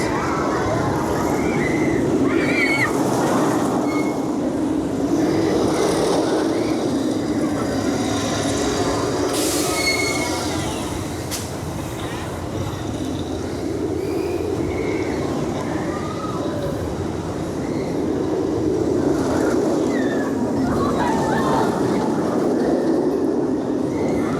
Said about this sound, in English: I love just standing here on a nice summer's day and just watching the trains go by